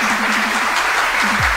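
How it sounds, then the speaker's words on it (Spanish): Applause breaks out for a giveaway winner at a live prize draw, a dense steady clatter of clapping that runs the whole time with a few tonal bleeps over it. "Aplausos"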